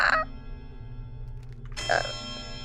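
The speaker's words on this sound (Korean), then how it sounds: "아, 종소리 종소리" A bell rings twice inside a mansion, a bright ringing strike at the start and another just under two seconds later, each leaving a sustained metallic hum that fades between them.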